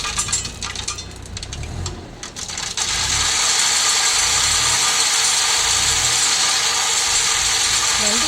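A truck tipping a load of gravel, its engine running with mechanical clanks before a loud, steady rushing roar of stones pouring out takes over and continues to the end.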